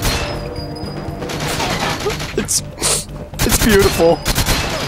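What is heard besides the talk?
gunfire in GoldenEye 007 Wii video game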